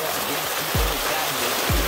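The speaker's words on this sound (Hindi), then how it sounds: "झरने की कल कल कल पानी की गिरने की आवाज" Steady rushing of a village waterfall fills the background, with a couple of brief low thumps and faint voices mixed in.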